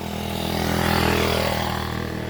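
A motorcycle engine runs steadily on a roadside, a continuous loud drone with harmonic hum, holding a fairly even level with a slight swell midway and no talk over it.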